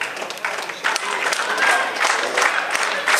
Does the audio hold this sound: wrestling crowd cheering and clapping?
yes